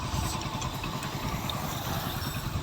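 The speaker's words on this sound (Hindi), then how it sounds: "तो आप दोस्तों इंजन की साउंड सुने और ज़रूर आप कमेंट करें।" Rebuilt motorcycle engine with a newly fitted half engine runs steadily at close range, a continuous rough idle with a dense low-end putter and no talk over it.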